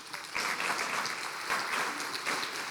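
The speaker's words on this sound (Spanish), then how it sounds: "esto merece un aplauso al Señor" A church congregation breaks into loud, dense applause for the Lord, rising quickly and holding steady over a few seconds, with no talking.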